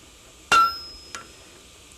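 Spring steel is struck and snapped in a blacksmith shop: a sharp, bright metallic clang rings briefly, then a softer tap follows, and another hard strike closes.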